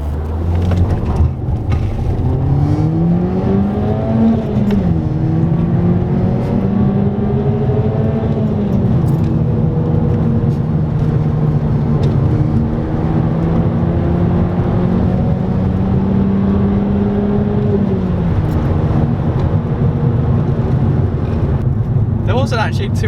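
A Volkswagen Golf Mk5 GTI launches hard from a full stop on an open road, its engine revving up through rising, falling and climbing tones under steady in-cabin rumble, with people talking inside the car.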